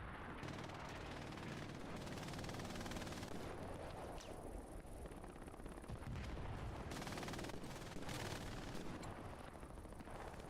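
Dense, sustained gunfire from machine guns in a competitive tactical shooter match, continuous crackling bursts and distant booms filling the whole stretch at a steady, busy level with no voices.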